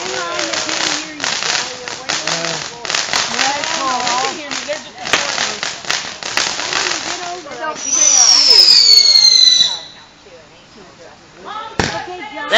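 Fireworks going off outdoors near a deck, heard as scattered pops and cracks among people chatting and shouting, then a rising whistle followed by a sharp bang.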